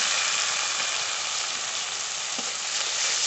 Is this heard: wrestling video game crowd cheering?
no